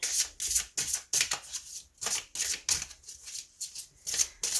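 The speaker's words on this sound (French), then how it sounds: "Je vais remélanger." Tarot cards are shuffled again and again in quick riffling bursts, about a dozen crisp papery flutters in an uneven rhythm, close and clear with no talking.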